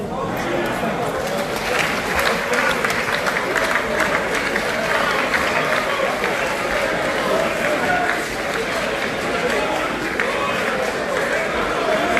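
A National Assembly plenary applauds as three members of the provisional bureau leave, with dense, sustained clapping and crowd chatter that stay loud and unbroken throughout.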